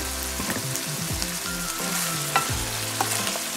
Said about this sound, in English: includes green peas, string beans, bell pepper, corn, and carrots. And this will be added here.